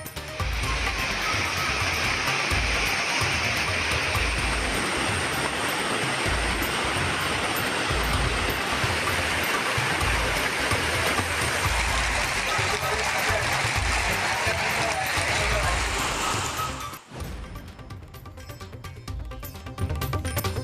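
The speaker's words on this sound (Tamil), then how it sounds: "காளிகேசன் பகுதியில் ஏற்பட்ட காட்டாற்று வெள்ளத்தால் மூழ்கிய தரைப்பாலம்." Flash-flood water pours over a submerged causeway in the Kaliakesam area of Kanyakumari district during heavy rain, a loud, steady roar that drops abruptly near the end before swelling again.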